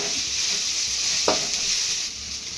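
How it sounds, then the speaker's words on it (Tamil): Mint and tender coconut chutney ingredients sizzling steadily in a frying pan as they are stirred until golden, with a single sharp spoon scrape near the middle. "விட்டுறாம நல்ல பொன் முருகலாக வர வரையும் நல்லா அப்படியே கிண்டி விட்டுக்கிட்டே இருங்க"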